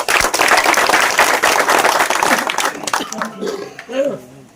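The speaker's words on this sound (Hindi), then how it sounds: "उनके लिए भी जोरदार तालियां" Loud crowd clapping at a village political rally, dense for about three seconds before thinning out as a voice starts talking over the fading applause.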